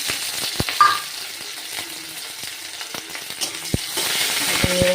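Dried red chilli, cumin and chopped onion frying in hot oil, a soft steady sizzle with scattered pops and a few sharp utensil clicks and scrapes, no talking.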